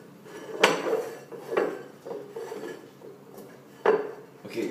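Bread dough scraped around a bowl slicked with olive oil, a few separate scrapes and knocks, close and fairly quiet, with no one talking.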